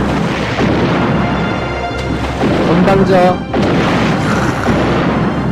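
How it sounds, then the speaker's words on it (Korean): In the naval game Uncharted Waters 4, cannon fire booms over a dense, constant battle din, with bursts of impacts and a voice speaking briefly. "대포 좀 쏟아지는 거 봐라"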